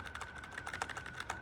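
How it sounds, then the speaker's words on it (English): Quick, even keystrokes on a LANGTU membrane gaming keyboard, a fairly quiet, close run of soft clicks in a steady typing rhythm. "I can type just fine with them."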